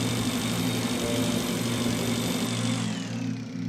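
In the Breathedge video game, a motorbike engine runs with a steady droning rumble, close and constant, easing slightly toward the end, with no talk.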